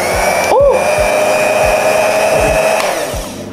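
An electric hand mixer runs at speed with a steady loud whirring hum, vacuum-like in tone, its pitch shifting briefly near the start.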